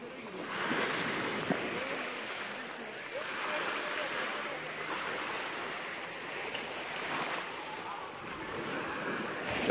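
Sea waves washing onto a calm beach at Datça, Turkey, rolling surf in slow repeated swells with a steady wash and light wind noise, heard up close without talk.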